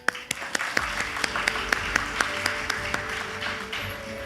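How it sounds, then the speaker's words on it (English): A graduation ceremony audience claps for business partners, a thin, moderately distant round of applause with a few sharper individual claps standing out in a fairly regular rhythm. "Let's give another round of applause to our business partners for their support."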